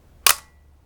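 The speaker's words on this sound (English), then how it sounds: "So we'll open the shutter now." An SLR camera shutter opens with one sharp, close mechanical click that dies away quickly, with silence around it.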